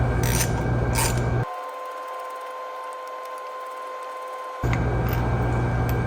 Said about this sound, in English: make sure that our ratchet is going the correct direction